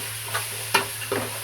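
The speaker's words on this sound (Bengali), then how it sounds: "ঢাকনা উপর উঠামো, হালকা একটা লাড়া দেবো" A spoon scrapes and stirs khichuri in a pot with its lid lifted, giving three short strokes over a soft sizzle in a quiet kitchen.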